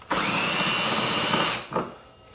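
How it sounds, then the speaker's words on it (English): A cordless power drill whirs steadily at high speed for about a second and a half on bolts during a powered frunk install on a 2022 Tesla Model 3, then stops, with a brief second burst after. "I don't like tightening them with the drill, but this makes it faster."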